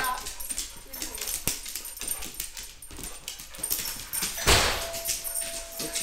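A dog whimpers and yips softly amid a busy, noisy room with a person coaxing it nearby and a thump partway through.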